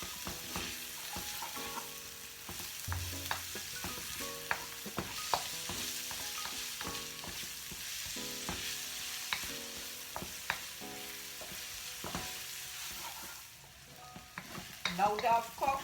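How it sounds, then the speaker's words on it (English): Red and green peppers fry in a pan with a continuous sizzle, punctuated by frequent clicks and scrapes of stirring, fairly close and steady throughout. "These are red peppers and green peppers as well. Leave them cook for about 3 to 4 minutes as well."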